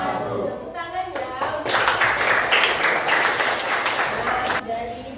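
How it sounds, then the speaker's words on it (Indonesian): A classroom of students claps, a dense burst of applause that rises after brief talk and holds steady for several seconds before tapering off, with voices faintly underneath. "Tepuk tangan ya."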